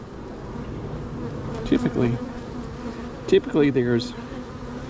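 Honey bees buzz steadily at the hive, a dense close drone running throughout, with someone speaking briefly twice over it.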